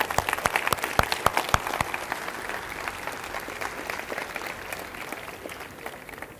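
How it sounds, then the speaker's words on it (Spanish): A conference audience claps for the collaborators, opening with sharp distinct claps in a dense burst that soon thins and fades into softer, more distant clapping. "Un aplauso a los que colaboraron,"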